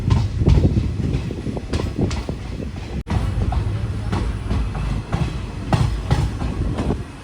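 A daily passenger train running between Tiruvannamalai and Tirupati pulls away from Arani Road station, its wheels clattering steadily over the rails in a loud, continuous rumble with rhythmic knocks and no voices.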